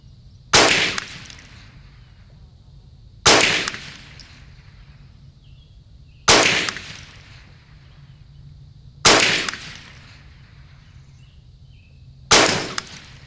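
Five single rifle shots from a Savage 64 Takedown fired with iron sights, each a loud sharp crack followed by a brief decay, spaced about three seconds apart with quiet between them.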